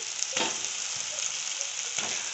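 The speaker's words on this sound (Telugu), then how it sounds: "టొమాటోస్ని ఇలా ఫ్రై చేసుకోవాలి ఆయిల్ సపరేట్ అయ్యే వరకు" Tomatoes fry in oil for a dry fish curry with a steady close sizzle, broken by a couple of spoon scrapes or stirring strokes.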